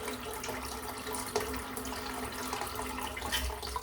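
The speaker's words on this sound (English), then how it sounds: "I'm using hot water in the sink today" Hot water runs steadily from a tap into a sink during a head shave, a continuous close splashing and hissing stream with faint clinks and no one speaking.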